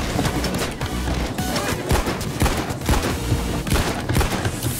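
Gunfire from the video game Payday 2 during a First World Bank heist on hard mode: loud, rapid bursts of shots and sharp impacts in an irregular rhythm, with no talking over them.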